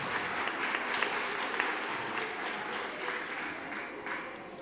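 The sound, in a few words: audience applause after a performance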